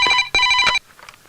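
A telephone ringing in a Hindi action film scene, two loud electronic ring bursts in quick succession, then a quiet pause.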